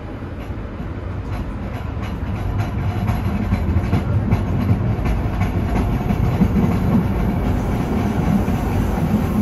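A Green Line light rail train rolls steadily along its tracks on the opening day of the Green Line Extension, with loud, close rumbling and rhythmic wheel clatter that builds gradually and continues throughout.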